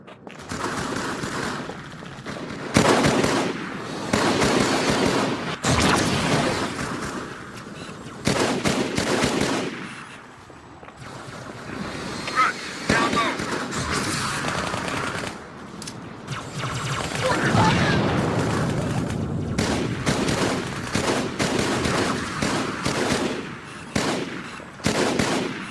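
Gunfire in a Halo video game battle: bursts of rapid machine-gun fire and scattered shots come and go in clusters, with shouted voices mixed in amid the combat noise.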